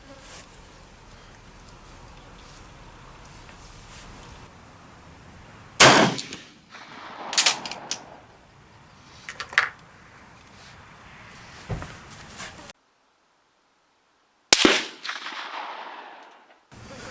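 Several sharp rifle shots from a Swiss Private Series K31 bolt-action at an outdoor range, widely spaced single cracks with quiet gaps and faint handling noise between them, no talk.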